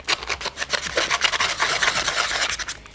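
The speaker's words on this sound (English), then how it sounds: "And what I like to do first is actually sandpaper" Sandpaper scratches back and forth across the underside of a plastic snow globe lid in quick, close, rasping strokes, alone and fairly loud.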